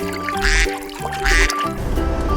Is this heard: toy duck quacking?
yes